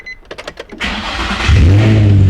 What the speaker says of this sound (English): the car starts up way quicker, it sounds healthier